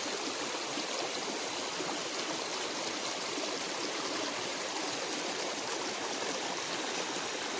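A clean village stream flows in a steady, even wash of rushing water, close and constant throughout, with no voices.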